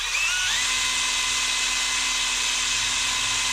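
A handheld rotary tool sands the inside of a ring made from a 1 oz gold Double Eagle coin, giving a steady, loud high-pitched whine that holds without a break throughout, with no talking.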